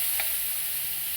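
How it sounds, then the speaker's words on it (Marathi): Onion sautéing in hot oil in a pan after garlic, a steady close hiss of frying with one brief stirring scrape near the start. "कांदा चांगला परतून द्यायचा लाल होईपर्यंत"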